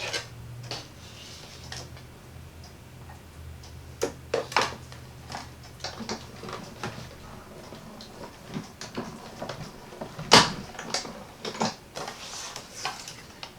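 Paper and cardstock are cranked through a die cutting machine, producing a low hum at first and then a string of close, irregular mechanical clicks and ticks with one louder clack partway through.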